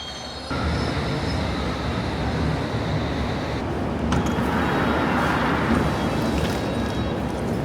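A London Underground train rumbles loudly through Earl's Court station, steady and close, with metallic wheel squeals rising partway through; no one speaks.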